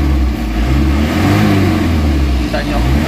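An older car engine, freshly tuned, revs hard and aggressively, a loud, sustained rumbling roar held close by with slight surges in pitch.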